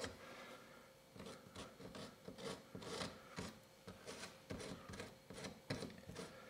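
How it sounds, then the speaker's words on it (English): A hand file rasps back and forth in the creases of carved pine-needle detail in wood, a close, quiet series of rhythmic scraping strokes with no talking. "Just kind of work those creases with your file."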